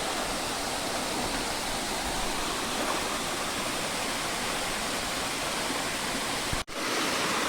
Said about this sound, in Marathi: बघा आता इथे आमचा छोटासा धबधबा आणि त्याच्यावरती आमचा मोठा कडा आहे